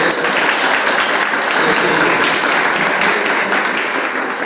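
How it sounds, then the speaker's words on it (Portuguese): An audience at a territorial workshop gives a round of applause for a delegate, a sustained, dense patter of many hands clapping at an even level throughout. "eu queria pedir uma salva de palmas para o nosso delegado."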